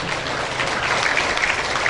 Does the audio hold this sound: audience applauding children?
yes